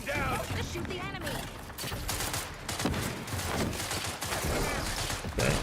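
Rapid bursts of gunfire from a firefight in The Outer Worlds 2 crackle almost continuously and fairly loud, with a voice talking over parts of the shooting.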